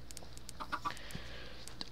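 A few short clucks from chickens in the game Sky Factory 2, soft and close, scattered over a quiet background with light clicks.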